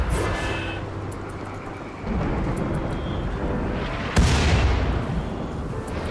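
Weapons fire in the colony-building game RimWorld, heavy booming blasts like artillery rolling under a dense low rumble, with one sharper, louder impact near the end.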